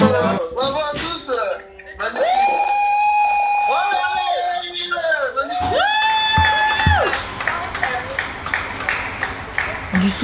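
Evening lockdown applause from balconies with cheering and clapping from a distant crowd, joined by long rising and falling whistle or horn tones, and a voice speaking over the noise.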